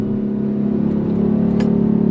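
A 2024 Ford Mustang GT with a naturally aspirated V8 pulls hard under throttle, its deep steady engine drone loud and close throughout with no talking.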